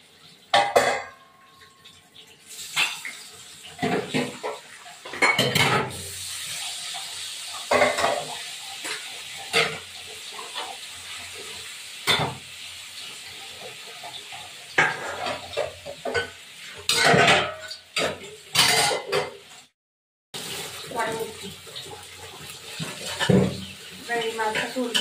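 Tilapia fish frying in oil in a pan with drumsticks and poppy seed, sizzling in bursts as pieces go in, with a spatula scraping and clattering against the pan and a voice speaking at times.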